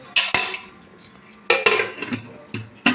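A metal lid clanks onto a pot of radish sambar, with several sharp, close clinks and scrapes spread over a few seconds and no talking.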